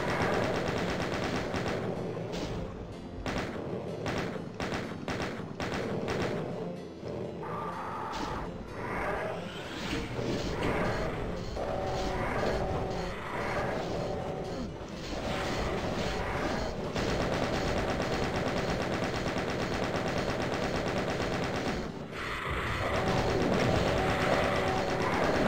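Video game gunfire plays over dense game audio, a long run of loud, closely spaced shots with rapid bursts heard throughout.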